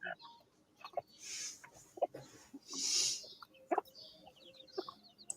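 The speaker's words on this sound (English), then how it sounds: "there's some little chickens around there" Small chickens clucking and peeping outdoors near dogs eating biscuits, several short bursts of clucks and chirps close by among quiet shuffling and soft crunching, with brief noisy gusts in between.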